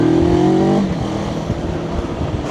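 A CFMOTO 700MT motorcycle engine drones steadily while the bike is ridden fast over off-road terrain. A tonal engine note dominates the first moment, then it falls away to a rough, rumbling roar of the ride.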